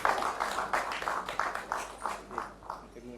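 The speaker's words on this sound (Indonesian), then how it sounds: "Berikan tepuk tangan." Applause from an audience at an early-childhood and non-formal education accreditation talk show in East Java, a faint, evenly paced run of claps heard from a distance.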